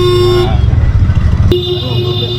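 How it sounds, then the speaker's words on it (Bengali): An auto rickshaw rides through busy Kolkata traffic, its engine droning loudly and close, with two sustained horn blasts, one at the start and another near the end, and a rattling rumble between them. "মেট্রোর সামনে থেকে আমরা একটা অটোতে উঠলাম এই অটো থাপার মাঠ যাচ্ছে"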